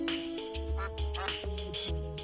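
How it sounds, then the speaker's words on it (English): Cartoonish duck quacks from the game Terraria, a few short calls spread over two seconds, heard over steady game music and ambient tones. "Oh yeah, ducks."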